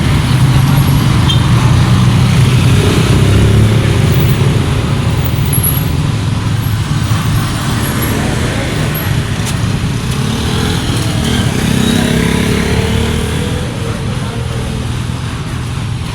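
Busy roadway in Cawayan, Masbate with tricycles and motorcycles passing, a loud, continuous rumble of engines and traffic noise heard close by throughout, without clear talk.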